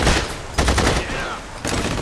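Bursts of gunfire in The Saboteur video game: loud rapid volleys crackle at the start and again after a short pause, with a third burst near the end.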